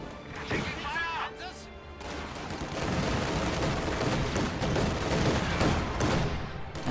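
Bursts of rifle and bazooka fire crackle through a World War II strategy game battle, dense overlapping shots under an excited commentator's voice.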